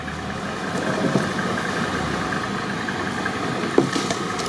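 A new, powerful engine of an off-road vehicle runs at a steady low idle during a trophy raid through reeds, droning continuously with a faint clank or two.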